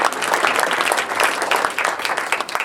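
Sustained applause fills a talk venue as the audience claps together, a thick, continuous patter of many hands at steady volume that thins slightly near the end.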